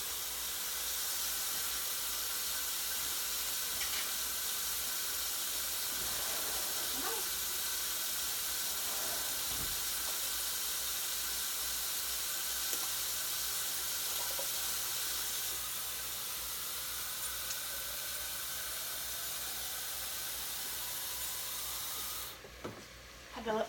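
Steady broadband hiss of about 3 cups of water running and pouring continuously into a pot, fairly quiet and close, with a few faint clinks and a brief louder rush near the end.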